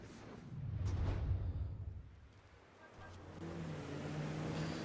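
Car engine in Mafia 3, a steady motor drone that swells and rises in pitch, dips briefly, then settles into a sustained hum of driving.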